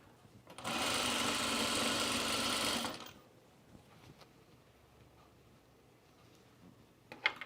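Sewing machine stitching a wide waistband on pants, a fast steady whirring burst of about two seconds close by, then quiet with faint handling sounds.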